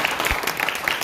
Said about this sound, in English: give Brandon a round of applause